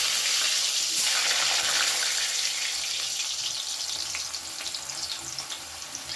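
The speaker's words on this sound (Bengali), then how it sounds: "আমি একে একে এই সবজিগুলোকে প্রথমে ভেজে তুলে নেব প্রথমে আমি আলুগুলো" Potatoes sizzle in hot mustard oil for a Bengali chhyachra, a steady, loud, hissing crackle close up that fades only slightly toward the end.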